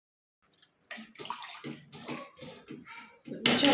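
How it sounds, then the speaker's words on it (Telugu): Water poured into a simmering pot of sambar on a home stove, a close splashing gush in short bursts that swells louder near the end. "కొంచెం వాటర్ పడుతుందమ్మా,"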